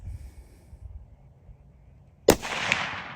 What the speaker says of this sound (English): I'm just kind of shooting at it for the fun of it.